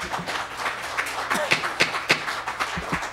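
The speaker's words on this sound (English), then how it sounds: "Please keep applause to yourselves." Audience applause breaking out during a spoken session, scattered sharp claps rising over a noisy room for a few seconds.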